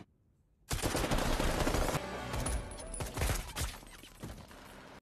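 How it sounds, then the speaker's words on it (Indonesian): Intense automatic gunfire from a film shootout between two armed teams, dense rapid bursts erupting loud and close after a quiet opening, continuing with sharp volleys and reverberant shots throughout. "Terjadi adu tembak yang intens antara tim Delta dan Wade."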